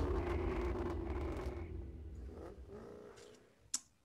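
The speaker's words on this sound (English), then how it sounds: "But all of a sudden, the engine starts." A vehicle engine turns over and runs with a rough, loud roar that slowly fades, then a single sharp click closes it out.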